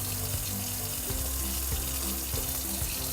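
Lukewarm tap water runs steadily into a sink for rinsing a brush, a constant close hiss with small shifts in tone as the stream is disturbed.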